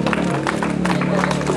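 Crowd applauding knights in iron armour at a medieval fair in Pułtusk, Poland: dense, steady clapping and cheering from a nearby audience, mixed with voices throughout.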